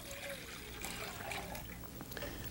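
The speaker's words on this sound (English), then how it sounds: "One of our pots we're going to add our water." Water streams steadily into a cooking pot for halva, a continuous soft splashing and trickling close by with no pauses.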